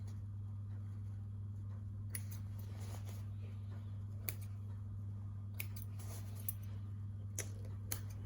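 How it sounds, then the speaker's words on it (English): Scissors snip threads and fabric edges on scrubs, giving sparse, sharp, close clicks in small clusters over a quiet, steady electrical hum. "So trim all your edges off. And at the front, cut your extra threads"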